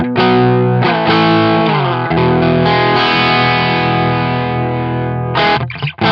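Electric guitar played through a Two Notes GENOME amp preset with reverb, loud, distorted sustained chords and ringing notes washed in reverb, alone without voices.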